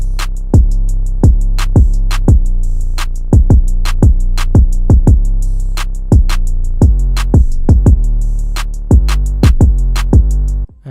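A full melodic trap drum loop made in FL Studio, with deep 808 bass and kick under rapid crisp hi-hats and snappy percussion. The groove runs loud and steady, with booming low hits and busy ticking highs throughout.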